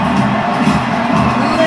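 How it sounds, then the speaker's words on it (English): Stadium crowd at the London 2012 Olympics applauding and cheering Usain Bolt, a steady dense roar of clapping and shouts filling the whole stretch at close, loud level. "Listen to the applause for the three-time gold medalist"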